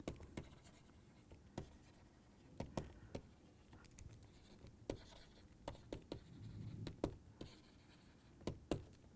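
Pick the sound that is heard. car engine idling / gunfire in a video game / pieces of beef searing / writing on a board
writing on a board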